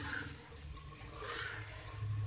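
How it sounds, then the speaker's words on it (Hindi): Water pours in a steady, continuous rush into a handi, a cooking pot of sautéed potato and green chickpea curry, close by and fairly loud with no voices over it. "पानी डालूंगी इसमें"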